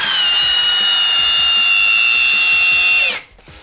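Two Festool cordless drills, CXS 18 and TXS 18, driving screws together, a steady high whine that holds for about three seconds and then cuts off abruptly.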